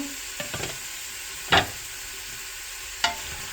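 Chopped onions sizzle in a large pot of oil while a spoon stirs them, giving three or four sharp scraping bursts over a soft, steady frying hiss, close up and with no voices.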